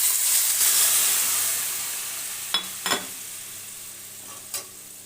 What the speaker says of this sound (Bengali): দিয়ে ভালো করে নেড়ে নিলাম।